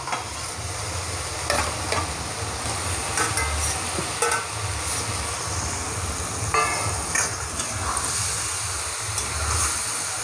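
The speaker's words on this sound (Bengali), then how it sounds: "এই মশলার সঙ্গে ভালো করে নাড়াচাড়া করে মিশিয়ে নেব।" Mutton liver pieces stirred and frying with spices in a pan: a continuous sizzle with regular spatula scrapes against the pan, close and steady throughout, no talking.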